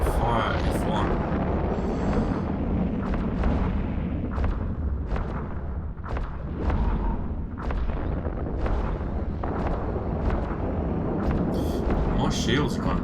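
Ship weapons in the space game Eve Online fire as a series of dull, booming blasts at irregular intervals, steady and fairly loud beneath a speaking voice.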